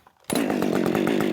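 A Redmax GZ 5000 professional chainsaw with a muffler mod bursts to life after a short moment of quiet and holds a loud, steady, high-revving snarl up close.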